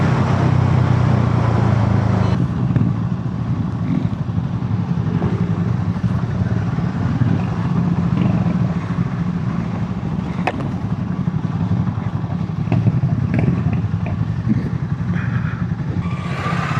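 Harley Davidson X440T motorcycle on a morning ride in Goa, a steady engine drone with road and wind rush heard from the saddle, the tone dropping early on and staying constant.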